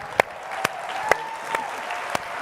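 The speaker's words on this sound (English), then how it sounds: "give her a big round of applause" An audience applauds at a Dell-hosted women's event, a steady wash of clapping punctuated by a few sharp, regularly spaced claps close by.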